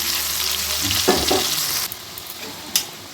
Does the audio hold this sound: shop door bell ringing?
no